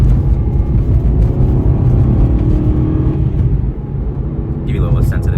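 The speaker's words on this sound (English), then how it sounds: "give you a little sense of the V8 there" An Aston Martin Vantage V8 idles and rumbles with a deep, steady low-frequency drone close to the microphone, while someone talks over it throughout.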